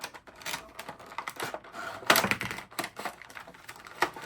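A GI Joe Classified Retro Recondo action figure is pulled from cut plastic blister packaging, giving close, quiet crinkles, taps and crackles of stiff plastic in an irregular run.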